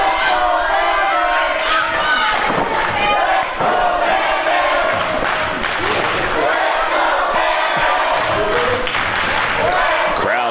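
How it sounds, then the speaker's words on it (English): A wrestling crowd in Forney, Texas, cheers and shouts to rally Bam Bam Malone as his opponent wears him down, a continuous, echoing din of many voices with occasional louder yells rising from the mass. "Crowd trying to rally Bam Bam Malone here"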